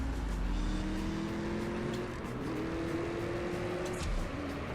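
Quiet engine revving from a car in the racing video game CSR2, with rising tones that climb, drop back and climb again through gear shifts over a few seconds.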